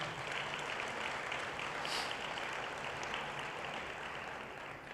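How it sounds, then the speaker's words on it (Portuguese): A church congregation applauds, a steady wash of clapping heard from a distance at low level without a break. "Você pode aplaudir o Senhor Jesus?"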